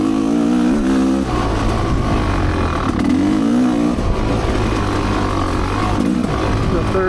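Off-road motorcycle riding an ORV trail in third gear, engine droning loud and steady close by with shifting pitch as it accelerates and eases off, no pauses throughout.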